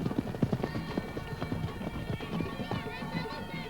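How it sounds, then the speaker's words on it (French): Hooves pound rapidly as horses gallop past in Afghanistan, a dense drumming rhythm amid crowd noise and people talking nearby. "on voyait que les chevaux arrivaient vers nous"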